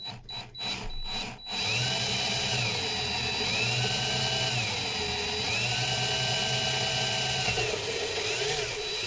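A power drill bores through material, its motor whining steadily and rising and falling in pitch as it bites. A few sharp knocks come first, and the drilling is loud, close and continuous, with no talking.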